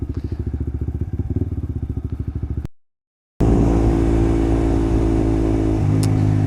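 A Daelim VJF250 motorcycle, a 250cc bike, being ridden: a steady pulsing engine note that cuts out briefly, then returns with a smoother, louder drone as it moves along.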